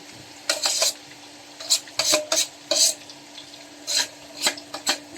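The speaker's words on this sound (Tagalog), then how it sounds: "lutuin lang natin yung bawang bago natin ilagay yung alamang para" Crushed garlic sizzles in a pan before shrimp paste is added, with a spatula scraping and stirring in short bursts at an irregular rhythm, close and clear over a steady low frying hiss.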